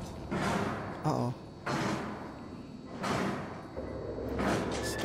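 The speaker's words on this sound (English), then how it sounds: "He's trying to break down the door." Someone in Outlast batters at a door to break it down, giving repeated heavy thuds and rattling slams in an uneven rhythm, fairly close but muffled, with short pauses between blows.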